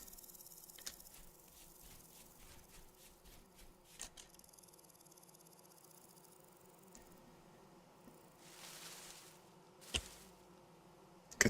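Bees buzzing in the video game Vintage Story, a faint, quiet insect hum with short louder bursts and scattered clicks from gameplay, low in level and no voices.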